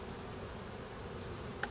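Honey bees hum at a hive opened for a winter inspection in January, a steady low buzz that holds throughout, with one brief sharper tick near the end.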